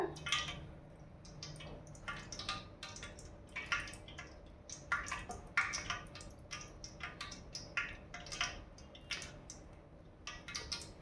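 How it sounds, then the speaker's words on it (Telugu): Hot oil heating in a pan before cooking a drumstick tamarind curry, giving off scattered, quiet crackles and pops in an irregular, sputtering rhythm with no one talking. "ఆయిల్ అయితే హీట్ అయిందండి, చిటపట అంటుంది కదా."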